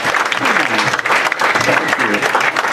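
An audience claps at a comedy poetry show, a dense burst of applause holding steady for a few seconds, loud and close.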